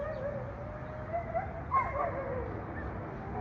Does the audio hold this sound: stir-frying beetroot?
no